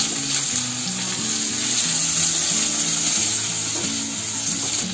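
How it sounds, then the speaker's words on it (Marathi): Finely chopped onions sizzle steadily in hot oil with whole spices such as cinnamon over a full flame, a dense continuous fry close up with faint background noise and no talk. "हा कांदा टाकलाय ना तो आता मला चांगला लाल होईपर्यंत फ्राय करून घ्यायचा आहे"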